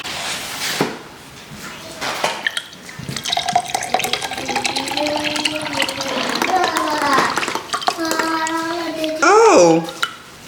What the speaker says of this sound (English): let me pour this into a glass.